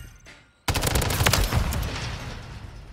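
Rapid automatic gunfire in a shooter video game, a sudden loud burst of closely spaced shots that trails off over a couple of seconds.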